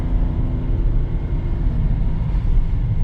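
A Mercedes W211 car drives steadily, a constant low engine and road rumble heard from close by, with no talking.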